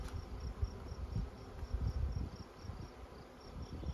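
Faint buzzing of honey bees around an open beehive with supers and a queen excluder, a soft continuous insect drone with irregular swells beneath low rumbling background noise.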